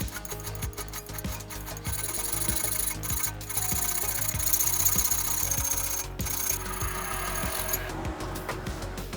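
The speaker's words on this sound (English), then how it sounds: "I kept going with the file to get more precision." A hand file scrapes back and forth over the steel bevel of a Bowie knife, a steady run of rasping strokes up close with faint mechanical hum beneath.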